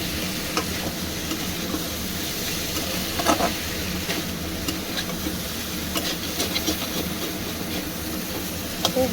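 Onions and kochur loti (taro stolons) fry in a pan, partly boiled and cooked with prawns. A steady sizzle runs throughout, with scattered scraping clicks from stirring.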